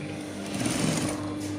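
A sewing machine stitches a top, giving a steady, close, continuous whirring hum that holds an even pitch throughout with no pauses.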